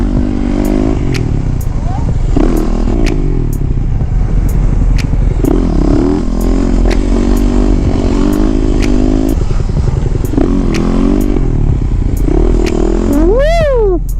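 A BMW motorcycle rumbles steadily while being ridden through city streets, its engine drone continuous and close throughout, with clattering and brief scraping noises and someone talking over it.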